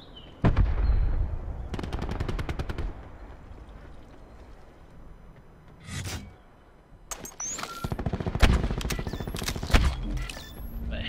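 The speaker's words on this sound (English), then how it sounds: "We're going to start with the submachine gun." An MX9 submachine gun fires in a shooter video game in short, rapid bursts of shots separated by quieter gaps, loud and close, with a few single pops and clanks between the bursts.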